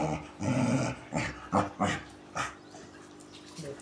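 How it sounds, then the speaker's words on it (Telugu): A puppy growls and gives several short yips and barks in separate bursts, close by, with no voice over it. "కింద కుక్క పిల్ల ఉందిగా"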